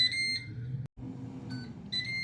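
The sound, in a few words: air fryer beeping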